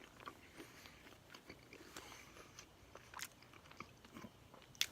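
Crinkle cut French fries from White Castle are bitten and chewed up close, a quiet series of soft crunches and mouth sounds.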